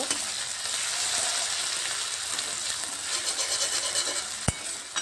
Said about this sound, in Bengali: রসুনটাকেও আমি একটু ভালো করে ভেজে নেব